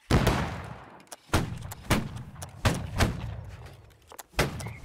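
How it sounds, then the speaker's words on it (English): Musket volleys from a line battle in Holdfast: Nations At War, six or seven loud booming shots spaced about a second apart, each with a rolling echoing tail. "Keep firing."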